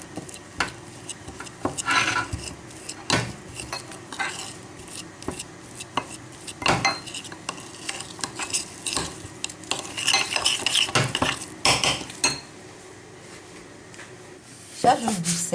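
A lamb shoulder marinade is mixed by hand in a bowl, giving close wet squelching, stirring and clinks of utensil against the bowl in irregular bursts, with a voice talking in between.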